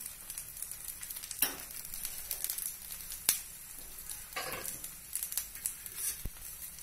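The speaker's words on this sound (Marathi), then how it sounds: "बघू शकता थोडस मी त्याच्यावरती तेल सोडते आहे" Oil drizzled over rice-flake (poha) batter in a hot pan crackles and sizzles up close, with sputtering pops and soft crinkling bursts across a low steady hiss, and no one talking.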